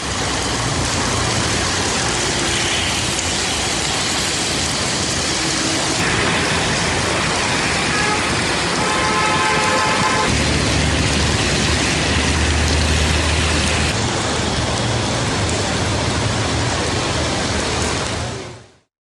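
Heavy rain pours across the Delhi NCR area in a loud, steady, dense roar that continues without a break and ends abruptly.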